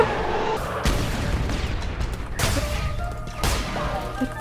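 Explosions in the video game Cult of the Lamb go off as a series of heavy booms and crashes, roughly three big blasts spaced about a second apart over dense, chaotic game noise.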